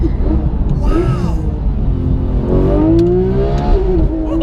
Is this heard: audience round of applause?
no